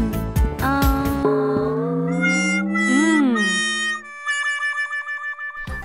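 A cartoon cat in a Minecraft animation meows several times in a row. The calls are bright, drawn-out and pitch-bending, close and clear, with playful boing-like effects in between and no talk over them.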